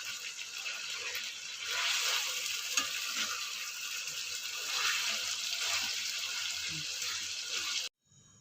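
Chicken pieces coated in grated coconut fry in hot oil with a steady, broadband sizzle, close and continuous for about eight seconds before cutting off abruptly near the end.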